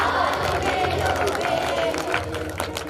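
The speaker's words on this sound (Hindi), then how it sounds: "ऐसे ताली बज रही।" Audience clapping along in steady rhythm during devotional bhajan singing at a religious discourse, with continuous crowd noise and voices mixed in throughout.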